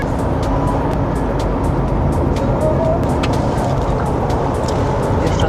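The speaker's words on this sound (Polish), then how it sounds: "No i jedziemy tunelem." A car drives through a road tunnel in Lyon, France, giving a steady enclosed rumble of engine and tire roar with faint ticking, loud and continuous throughout, no talk.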